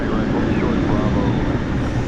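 A jet airliner roars steadily in the distance as it departs DFW Airport at night, a broad, even rumble that fills the short stretch beneath faint talk.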